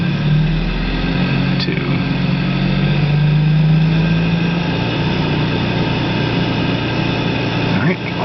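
The electric drivetrain of a Daytona EV spins with the transmission in neutral, holding about 3,400 RPM and giving a steady hum with constant tonal whine and low drone, loud and close, while a person speaks briefly.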